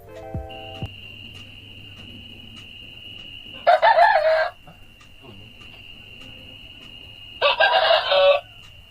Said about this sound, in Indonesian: Berikut adalah suara ayam jantan sebelum dilakukannya noise reduction.